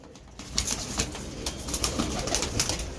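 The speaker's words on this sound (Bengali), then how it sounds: "বন্ধুরা দেখতে পাচ্ছেন বাচ্চা কবুতর" Young pigeons shuffle and coo softly nearby, with faint rustling and scattered soft clicks of movement throughout.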